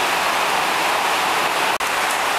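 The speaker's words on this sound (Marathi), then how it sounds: "थोडा आपल्याला पावसाने व्यत्यय आणला" Steady rain pours down outdoors as a close, even hiss that holds for a couple of seconds, with one brief dropout near the end and no voices.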